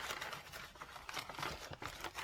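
Crinkly plastic rustling from rummaging through a haul bag of craft supplies, continuous close crackling and crumpling with small bursts throughout and no talk.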